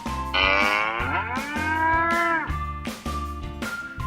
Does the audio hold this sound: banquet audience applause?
no